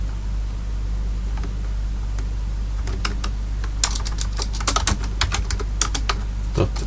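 Rapid keystrokes clatter on a computer keyboard while Java code is written, quiet at first and then a busy run of clicks over a steady low electrical hum.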